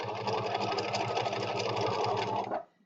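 A sewing machine runs steadily as it stitches through paper, a close continuous whirring hum with fast needle chatter that stops abruptly near the end.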